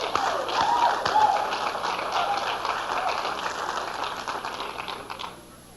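Audience applause at a 1992 Herbalife distributor training seminar, a steady dense wash of many hands clapping that carries on at an even level, then fades out over the last second.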